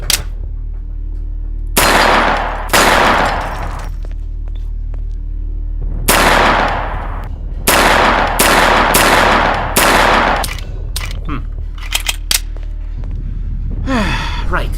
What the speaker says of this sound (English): I have a loud pistol